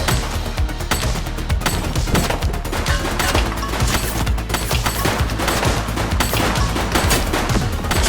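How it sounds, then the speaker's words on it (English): Sustained, dense gunfire in The Precinct police game, a continuous loud barrage of rapid shots with booming low end that runs without pause. "He's shooting!"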